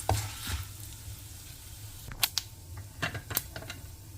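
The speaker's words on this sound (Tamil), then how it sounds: "இந்த கடலைப்பருப்பு உளுத்தம்பருப்புலாம் கொஞ்சம் நல்லா செவந்து வர அளவுக்கு இதை வதக்கிக்கலாம்." Chana dal and urad dal roast in oil in a pan for a kozhukattai tempering, giving a soft sizzle under intermittent scraping and clinking of a spoon stirring, close and fairly quiet.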